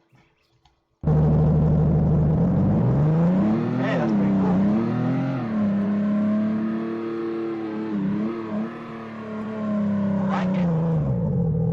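A car in a Roblox game drives and revs with a steady engine drone that rises and falls in pitch, loud and continuous, while a person talks over it.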